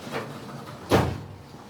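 A drawer in a machining workshop pushed shut with one short wooden thud, close and moderately loud, alone against steady room hum.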